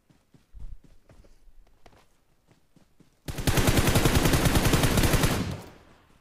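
Rapid automatic DP gunfire in BGMI, a sustained loud burst of evenly spaced shots lasting about two seconds after quieter footsteps and a few scattered distant shots.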